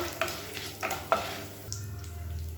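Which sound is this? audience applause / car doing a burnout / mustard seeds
mustard seeds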